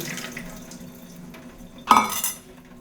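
Water from a tap rinsing soaked Pea Carnival pea seeds in a SproutMaster sprouter, a quiet trickle that swells into a brief louder splash near the end.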